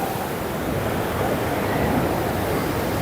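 Water rushes through an open gate at Harike headworks on the Beas and Sutlej, producing a loud, dense, unbroken roar that stays at an even level throughout.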